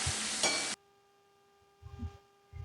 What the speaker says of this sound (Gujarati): હવે આપણે લીલા મરચાંની પેસ્ટને થોડી વાર સાતવીશું